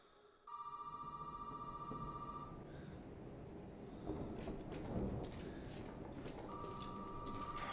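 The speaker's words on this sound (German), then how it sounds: "ich gehe jetzt hier irgendwo ans Telefon" A telephone rings inside a gloomy house in the video game Resident Evil 7, a steady electronic trill that stops mid-clip and starts again, with rumbling ambience and muffled thuds underneath.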